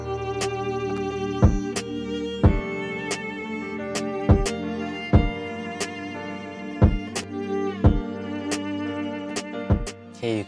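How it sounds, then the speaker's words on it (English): Simple rap drum beat with deep booming kicks and sharp snare hits over sustained pad, violin and piano chords, the hits landing at a steady, spaced tempo, close and clear with no voices. "We've got a simple rap beat."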